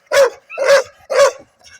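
A red dog of a freshly bred litter gives three loud, close barks in an even rhythm, each sharp and deep, followed by a faint trailing yip.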